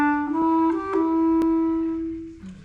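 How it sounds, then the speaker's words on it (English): A bass clarinet plays a short, sustained low melodic line of a few connected notes, clear and solo with no talking over it. "the bass clarinet is going to play here"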